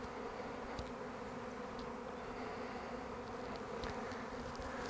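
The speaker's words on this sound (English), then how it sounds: "the bees in the air are now reforming on this tree" A honeybee swarm fills the air around a pear tree with a steady, dense buzzing, fairly faint and continuous with no talk.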